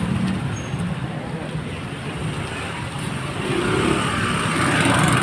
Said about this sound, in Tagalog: ginagawang kalsada kaya sobrang traffic dito sa amin